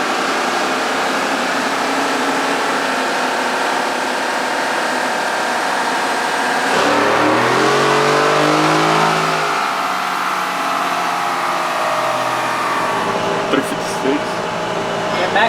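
Modded 2021 Ford F-150 pickup roaring on a dyno, a steady loud engine drone that sweeps up in pitch mid-pull toward the speed limiter, then holds high, with voices faintly underneath.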